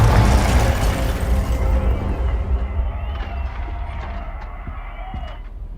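A Confringo blasting spell explodes in Hogwarts Legacy: a loud, booming blast with deep rumble right at the start that decays into a lingering roar, followed by softer magical whooshes and faint crackles.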